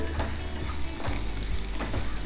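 Chopped carrots and beans sauté in a pan for vegetable rava idly, a steady close sizzle with a few stirring scrapes and knocks from the utensil, no voices.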